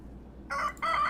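Two short, loud chicken calls sound in the farming game Medieval Dynasty, coming in quick succession after a brief quiet start, close and clear with no talking.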